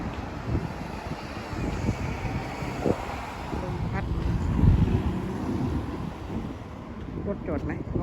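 Cold wind blows outdoors in Norway, gusting and buffeting the microphone in a loud, uneven rush, with someone talking over it.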